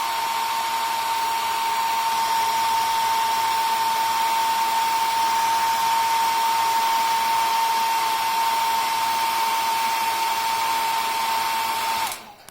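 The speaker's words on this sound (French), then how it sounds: "c'est un vieux sèche-cheveux" An old hair dryer blows in one steady, loud, close roar with a constant high whine for about twelve seconds, then shuts off abruptly at the very end.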